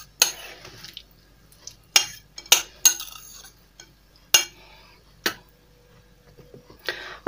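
Cabbage casserole mixture spread and pressed flat on a baking tray, a series of sharp separate clinks and taps of a utensil against the tray with quiet pauses between, close and clear.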